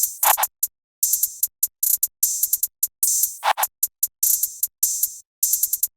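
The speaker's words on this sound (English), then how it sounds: "And then I added in this hi-hat. It's just a 2-step with some rolls" Trap hi-hat pattern from an FL Studio beat, a 2-step groove with rapid rolls: bright, crisp ticks in quick, stuttering clusters with brief gaps, plus a couple of short chant-like vocal hits mixed in.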